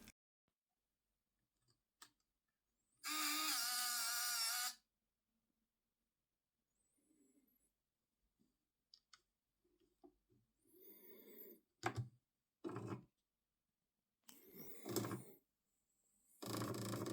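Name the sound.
TI-59 calculator's printer printing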